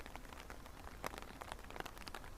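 Storm rain falls steadily in a soft, dense patter, with scattered sharper drop ticks, quiet and continuous with no voices.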